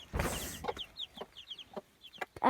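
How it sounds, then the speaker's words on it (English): Small chicks cheep in quick, high peeps around a mother hen named Mrs. Gold, with a brief burst of louder clucking at the start and scattered soft chirps after, fairly close. "Here we have chicks."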